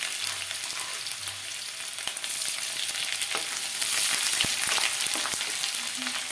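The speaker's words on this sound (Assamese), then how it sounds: "এতিয়া আমি পিঁয়াজখিনি দি দিম কাটি ৰখা।" Chopped onions frying in a pan for an Assamese-style duck curry, giving a steady, close hiss of sizzling oil with occasional faint stirring clicks throughout.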